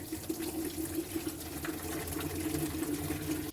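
Coolant drains from a Mazda RX7 radiator with a steady, close trickle and splash of liquid, a continuous hum running underneath and no talk.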